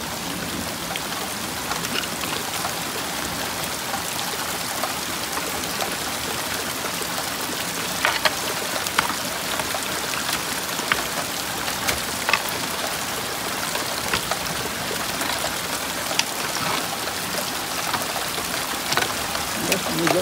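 Water rushes steadily with a constant splashing hiss, like runoff pouring through a channel, loud and continuous with occasional drips and knocks.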